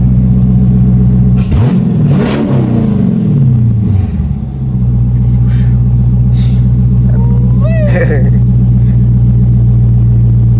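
Dodge Challenger R/T, already warmed up, idling loudly with a steady deep rumble, then revving hard in rising and falling sweeps as it sets up a burnout, close by and loud throughout.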